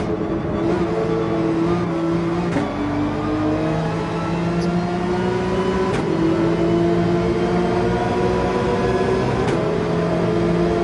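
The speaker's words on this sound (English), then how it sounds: "this Porsche has the fucking speed" A Porsche racing car's engine in a racing video game drones steadily and loudly, its pitch climbing and dropping through gear changes, with a few sharp shift clicks and no talking.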